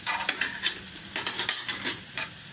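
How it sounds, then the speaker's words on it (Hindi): Garlic and ginger fry gently over low heat, a soft sizzle broken by a series of quick scraping stirs against the pan, close and moderately quiet with no talking. "लहसुन और अदरक को धीमी आंच पे भून लूंगी हल्का सा, बहुत ज़्यादा ब्राउन नहीं करना"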